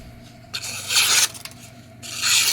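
A knife blade scrapes across a sharpening stone in two long, raspy strokes, then a third begins, close and distinct with quiet pauses between.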